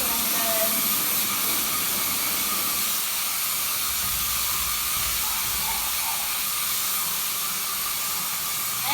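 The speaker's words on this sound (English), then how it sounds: "run the power washer just over the drain in the back here to make sure that the drain's nice and cleaned out" A power washer sprays a steady, loud hiss while rinsing out a dog kennel, continuous and unbroken throughout with little variation.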